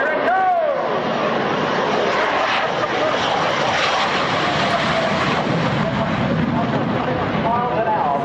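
A de Havilland Vampire jet roars past at the Biggin Hill airshow, a loud, steady broadband rush of engine noise that fills the whole stretch, with crowd voices and commentary blending into it.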